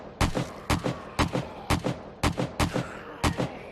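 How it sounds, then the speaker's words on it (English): Gunfire in 7 Days to Die (Alpha 16, Darkness Falls mod), about eight sharp, evenly spaced shots, each with a short echoing tail, loud and close with no talking. "Oh wow, that was bad shooting"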